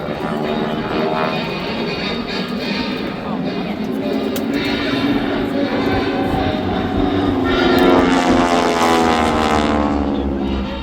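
Warbird propeller aircraft at the Seymour Johnson airshow drone loudly and continuously overhead, a throaty engine roar swelling toward the end while an announcer talks over it.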